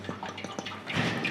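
Last of the wort runoff dripping and trickling during all-grain brewing of a black rye IPA, a close series of small liquid drips and splashes that swell into a brief pouring trickle.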